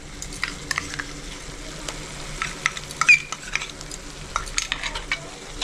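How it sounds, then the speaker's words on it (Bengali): Mace and nutmeg paste is stirred into a cooked-down masala in a pan for a chicken roast, with scraping spoon strokes over a steady low sizzle and scattered light taps and clicks, close and moderately loud, no talking. "দিয়ে ভালো করে মিক্স করে নিচ্ছি।"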